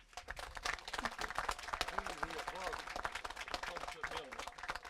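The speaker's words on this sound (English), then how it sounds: "I would like to applaud them for a job well done." A crowd at an outdoor grand opening for the U.S. 460 road corridor claps steadily, a dense patter of many hands with some voices mixed in.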